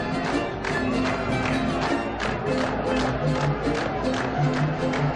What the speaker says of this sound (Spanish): pero todos aplauden